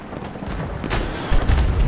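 An RPG fires and explodes in Battlefield 2042: a sharp launch crack followed by a heavy booming blast, amid constant loud battlefield rumble and gunfire.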